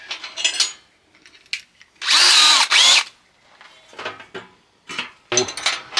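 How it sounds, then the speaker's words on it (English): A power drill with a 1/4-inch bit on hammer setting whines in two short bursts, surrounded by clattering taps and knocks of metal and wood being handled nearby. "The drill with that 1/4 inch bit seems to work a little better with on the hammer setting"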